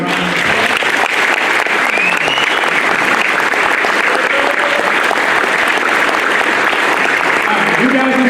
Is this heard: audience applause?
yes